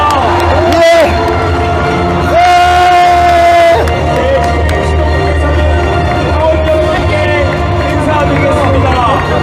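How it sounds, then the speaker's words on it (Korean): A large crowd at a Democratic Party leadership convention roars and cheers for newly elected leaders, a loud, steady wash of shouting and clapping with sustained horn-like tones rising above it throughout. "미래를 이끌어갈 새로운 지도부에게 다시 한번 뜨거운 박수 부탁드립니다"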